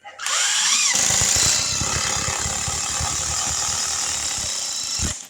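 Porter Cable impact driver driving a Torx screw into wood, with a high motor whine and rapid hammering impacts for about four seconds, loud and close, stopping with a final burst.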